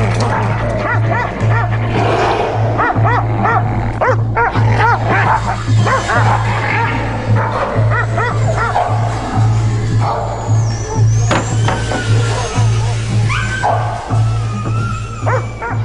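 Several dogs, including a poodle among them, bark and yip loudly in a rapid, overlapping chorus, with whimpers mixed in over a steady low hum, and narration runs over part of it.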